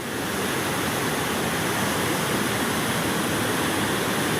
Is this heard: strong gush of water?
yes